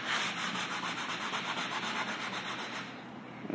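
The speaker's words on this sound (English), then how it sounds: "And the same thing on the side right here, you have to like sand it down like this way." The side of a rustic wooden tabletop for an entryway table is sanded by hand, giving a steady rhythmic rubbing and scratching stroke pattern that is close and continuous, without any voices.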